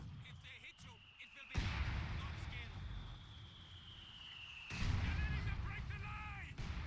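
Artillery and small-arms fire crackle through a WWII video game battle around a church near Caen, with two loud bursts of broadband blasts and rumble separated by a sustained whistling tone and softer gunfire between.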